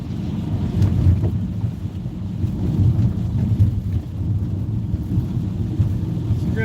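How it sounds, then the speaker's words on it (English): Rain falls on a night in Santa Rosa, a steady low rumble of downpour and wind buffeting close to the microphone, with no talk over it. "rainy night in Santa Rosa"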